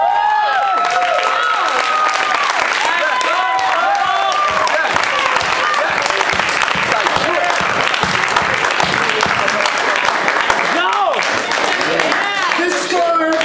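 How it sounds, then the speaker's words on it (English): Loud, sustained applause and cheering from a poetry slam crowd for a poet, with dense clapping, whoops and shouted voices running throughout at close range. "Clap for that poet."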